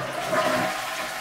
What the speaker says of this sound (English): Dual flush toilets are another way to reduce the load on your on-site sewerage facility. The half flush button's a great option